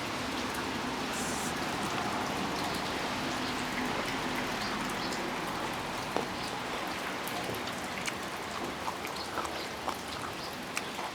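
Heavy rain pours down steadily in a dense, continuous hiss, with scattered louder drops striking nearby surfaces and no voices.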